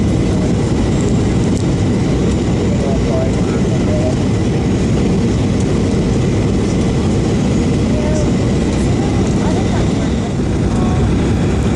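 Cayman Airways airliner on approach into JFK, New York, heard from inside the cabin as a steady, loud broadband engine and airflow roar that holds unbroken throughout.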